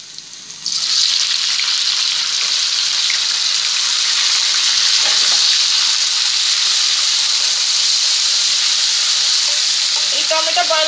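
Four chopped tomatoes land on frying onions and set off a sudden loud sizzle that stays strong and even. Faint stirring scrapes come in near the end.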